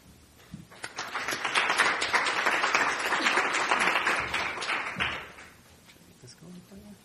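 A conference audience at a panel discussion on travel behaviour change claps to welcome a speaker, a steady, dense round of applause that swells, holds for about four seconds and then fades away.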